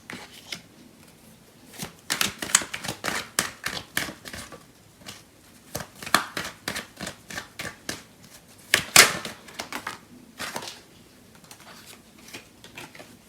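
Tarot cards being shuffled by hand, a dense run of crisp riffling flutters and soft slaps repeating through the whole stretch, close and fairly loud with no voice over them.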